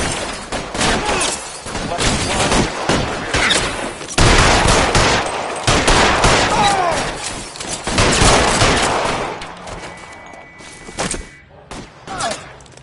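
Sustained gunfire and volleys of shots from a shootout in the video game L.A. Noire, loud and dense with overlapping bursts, easing off near the end.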